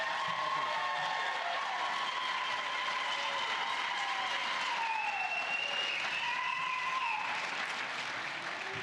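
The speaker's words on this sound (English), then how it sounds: "now we're gonna clap" Parents in a school auditorium applaud at a fifth grade continuation ceremony, a steady, dense crowd clapping that holds at full strength for about nine seconds with a few faint whistles and no talk.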